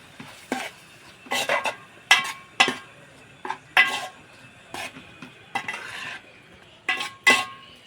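A spoon scrapes and clinks against a pan while stirring a tomato and broad bean curry, in a steady series of close, irregular metallic strokes with faint sizzling underneath.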